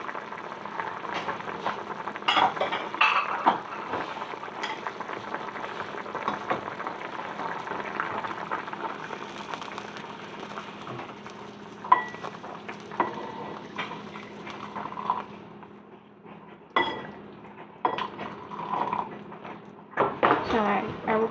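Red braised pork cooking in a pot, a soft bubbling boil with occasional stirring clinks and scrapes, faint and steady, with a person talking over much of it.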